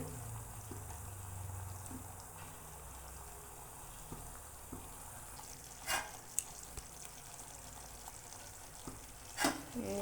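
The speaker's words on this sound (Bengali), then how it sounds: "এই যে কড়াইতে সরটা ফুটছে, দেখুন কীরকম করে।" A quiet, low simmer of milk cream bubbling in a wok while making ghee, broken by a couple of sharper pops and spits.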